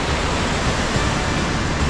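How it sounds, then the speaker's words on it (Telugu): Roaring Kalu waterfall at Malshej Ghat in the monsoon, a steady dense rush of falling water filling the scene without pause, loud and close, with no voices. "the king of water falls, కల్లు వాటర్ ఫాల్స్"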